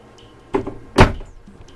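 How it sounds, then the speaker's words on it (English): A shower door inside an RV, a Leisure Travel Wonder rear twin bed coach, slides and bumps shut: a soft knock followed by a louder thud, close and brief, with no talk. "So we have the shower door here that we can open up so we can close off the bedroom"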